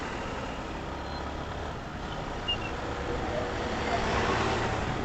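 Dense road traffic at night, heard from a Yamaha R15 V3 motorcycle, forms a steady, loud rumble of engines and tyres with a brief knock midway, continuous and close throughout.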